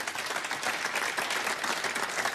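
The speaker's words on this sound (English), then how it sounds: "Maguire the first to applaud it" An audience at the 2017 snooker final between Judd Trump and Stephen Maguire applauds a safety shot, producing a sustained, dense wash of clapping that fills the hall evenly without pause.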